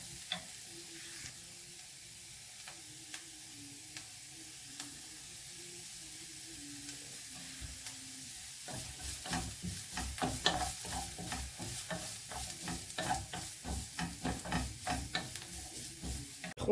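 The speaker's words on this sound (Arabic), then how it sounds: "نخلطوا المكونات مع بعضياتهم بهذا الشكل اخوان" Chicken filling ingredients are stirred and fried in a pan; quiet at first, then a close sizzle sets in with repeated, rhythmic scraping strokes that grow busier toward the end, without talk.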